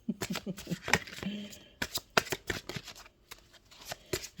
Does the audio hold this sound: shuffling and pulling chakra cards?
yes